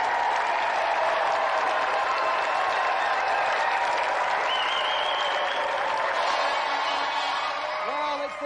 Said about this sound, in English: Let's give another round of applause there for Craig and Kirsty Monroe!